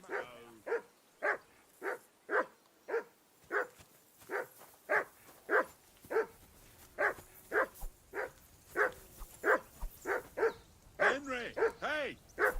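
A dog named Mutt barks in a video game, giving a steady run of sharp, close barks at a regular pace for the whole stretch, with a few whiny yelps near the end.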